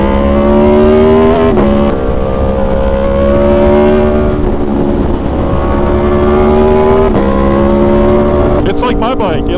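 An Aprilia motorcycle engine revs hard while being ridden, rising loud whine climbing through gears with brief dips at shifts, plus heavy wind rush, recorded very close.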